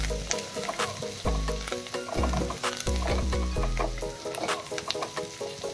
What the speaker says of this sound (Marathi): कांद्याचा कच्चेपणा जाईपर्यंत परतून घ्यायचा आहे।